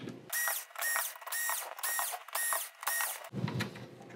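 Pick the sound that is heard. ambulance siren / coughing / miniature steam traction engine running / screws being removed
screws being removed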